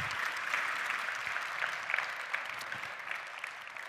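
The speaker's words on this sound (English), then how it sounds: "let's give him one more big round of applause" An audience at an outdoor car premiere in Le Castellet gives a dense, continuous round of applause, close and loud throughout, slowly thinning toward the end.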